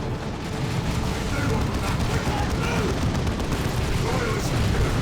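Sustained, dense barrage of gunfire and explosive booms in the sci-fi strategy game Warhammer 40K: Dawn of War II – Retribution, loud and continuous throughout with no pauses.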